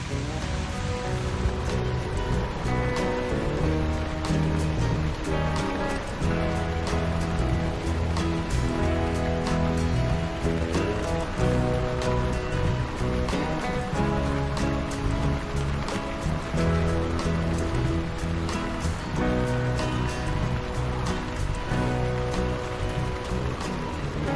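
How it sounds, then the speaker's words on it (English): Heavy tropical rain pours down in Bali as a loud, unbroken roar of water that fills the whole stretch without a pause. "This rain's not letting up, so it looks like I'm going to have to ride home in the rain."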